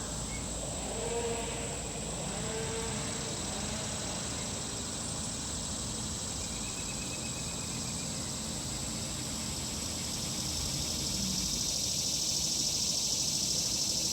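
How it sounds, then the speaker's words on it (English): A constant high-pitched cicada drone fills the air on a morning, with faint distant engine hum from chainsaws, lawnmowers and leaf blowers and occasional bird notes in the background. "Cicadas."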